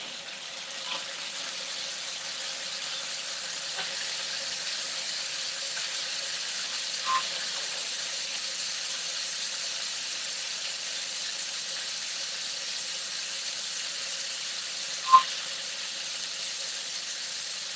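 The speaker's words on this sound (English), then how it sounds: "I think this might be the searing noise." Food sears in a pan on a home stove, giving a steady, faint sizzling hiss with a few sharp pops scattered through it and no talking.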